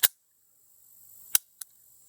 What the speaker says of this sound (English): Dry fire there for you.